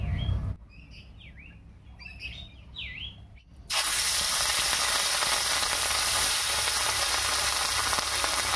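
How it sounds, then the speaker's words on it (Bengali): Fish frying in mustard oil in a wok over a village clay stove: birds chirp nearby at first, then loud, dense, steady sizzling bursts in and continues to the end. "এবারে কড়াইয়ে সরষের তেল দিয়ে মাছটা ভেজে নিচ্ছি।"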